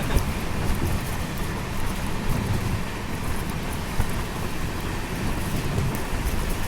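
Heavy monsoon rain on a coastal Karnataka train journey from Mangaluru to Goa, a dense, unbroken roar of rain and wind blending with the low rumble of the moving train, no voices.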